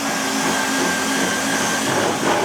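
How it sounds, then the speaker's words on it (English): A cylinder hone grinds inside the bore of a steam locomotive cylinder during in-place line boring for sleeves, a loud, steady abrasive whir and rush without pause, close by. "It's going to take some time with the hone."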